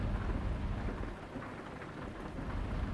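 Heavy rain and rolling thunder in Euro Truck Simulator 2, a loud, dense roar of downpour with deep rumbling running throughout and no talk.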